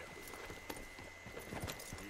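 Horse hooves clip-clop in Red Dead Redemption 2, a series of light, irregular thuds close by over a steady low game ambience, with a few louder hoof strikes near the end.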